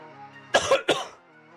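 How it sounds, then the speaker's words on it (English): A man clears his throat in two or three short, harsh bursts, close and fairly loud, between faint background hum. "I feel like I have to clear my throat"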